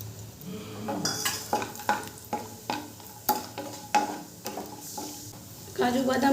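Halved cashews fry in white oil left from peanuts in a wok, a soft sizzle broken by regular clattering stirs of a spoon against the pan, close by with no talking.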